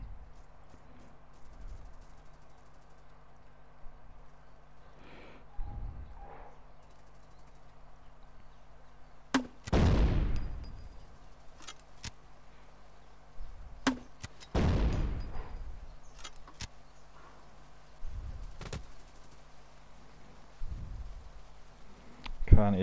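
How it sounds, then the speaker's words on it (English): A noob tube grenade launcher fires in the shooter video game Trigger Fist, with two strong booming blasts that sweep down and fade, among scattered sharper game impacts over a low background hum. "Oh, now I've got my noob tube out."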